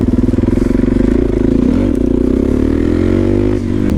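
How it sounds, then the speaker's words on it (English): A motorcycle engine revs hard and loud as the rider jumps off a bank into a wheelie, its throttle roaring steadily with a brief dip near the end, with no talk. "I'm trying to kind of jump out of that bank into a wheelie."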